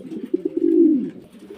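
A pigeon gives a single close coo, a few short throaty pulses rising into one longer rolling note that fades out, clear against a quiet background.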